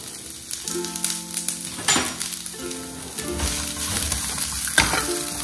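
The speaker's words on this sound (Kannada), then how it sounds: "ಒಂದು 2ರಿಂದ 3 ನಿಮಿಷ ಲೋ ಫ್ಲೇಮ್ ಅಲ್ಲಿ ಚೆನ್ನಾಗಿ ಫ್ರೈ ಅಂತ ಸಾಕು" Onions and spices fry on a low flame for a pork curry, a close, crackling sizzle with spatula scrapes and light clatter as the pan is stirred over several seconds.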